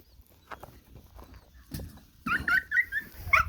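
Young puppies sniffing around for a live bird, with faint snuffling early on, then a run of high, thin whimpers and yips close by, growing louder toward the end.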